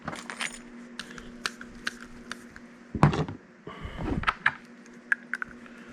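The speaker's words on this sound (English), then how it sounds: "Now let's go ahead and get the bolts in there." Metal bolts are dropped and pushed into PVC caps, making close, bright clinks and rattles with scattered taps and a brief burst of handling noise partway through.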